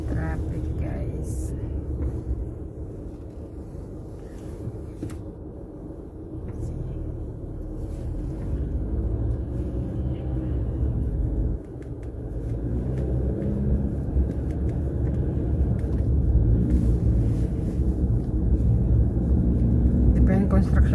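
Dense road traffic in Montreal rumbles continuously with engines idling and passing from inside a car, a low steady drone with people talking quietly.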